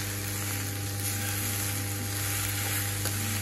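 Steady close sizzling and frying fills the whole span as vegetable masala idli with carrot and capsicum is stirred in a pan, with a constant low hum underneath and no talking.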